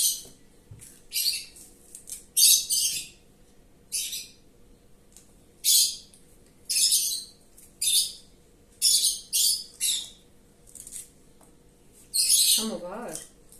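Pet parrots in a home kitchen let out repeated bursts of shrill chirps and squawks, each under a second long, with a warbling call near the end over a quiet background.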